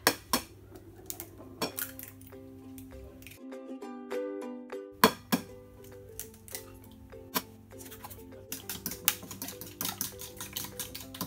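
Cake batter and eggs being mixed in a bowl, with many sharp clinks and taps of a utensil against the bowl in an irregular rhythm, close and fairly loud.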